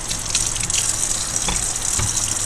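Tap water gushes steadily into a sink while printmaking tools from monoprinting on a plexiglass plate are rinsed, a loud, continuous splashing stream with a few brief clunks.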